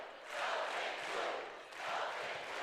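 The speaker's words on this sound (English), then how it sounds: "Listen to the crowd." Fans roar at a Kentucky vs Creighton NCAA volleyball regional final in a big arena, the cheering swelling and dipping in loud waves from a distant crowd.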